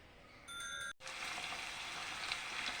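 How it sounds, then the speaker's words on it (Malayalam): Green chilli, ginger, curry leaves and garlic frying in hot oil for a fish pickle, giving a loud, steady, close sizzle that briefly cuts out and then resumes at full strength, with a faint tinkle at the start. "നമുക്ക് പച്ചമുളക്, ഇഞ്ചി, കറിവേപ്പില, വെളുത്തുള്ളി ഇതെല്ലാം ഇട്ട് കൊടുക്കാം"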